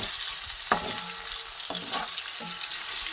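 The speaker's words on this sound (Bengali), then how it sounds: "এরপরে সুন্দর একটু ক্রিস্পি করে পটলগুলোকে আমি ভেজে নেব" Pointed gourd (potol) fries in white oil in a wok with a steady, close sizzle, broken by three short stirring scrapes and knocks.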